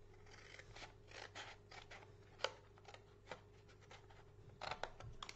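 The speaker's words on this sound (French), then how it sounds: "et ici, on coupe donc ce fameux carré comme on a fait de l'autre côté" Scissors snip through material to cut out a square piece for a box lid, a series of faint, close crisp cuts and rustles at an irregular rhythm, with no talking.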